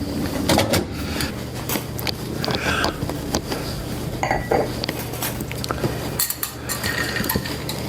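Glassware and utensils clink and clatter behind a bar in an underground pub while a cocktail with a lime garnish is being made, with steady busy background noise and scattered sharp chinks throughout.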